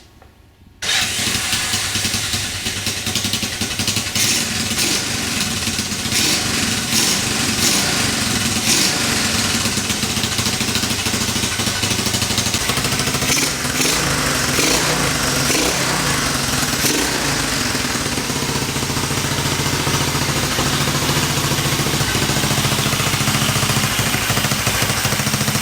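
A big-bore Honda CT90 engine with a lowboy exhaust starts with a sputter and then runs loud and close, a raspy, steady idle with slight revving fluctuations throughout.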